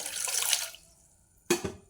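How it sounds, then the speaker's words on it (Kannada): Water from a glass pours into a pan for masala tea with cardamom, clove and crushed ginger, a bright splashy pour for about three quarters of a second, then a pause and a second short splash. "ಒಂದು ಗ್ಲಾಸ್ ನೀರು ಪಾಡೋನ್ವೆ"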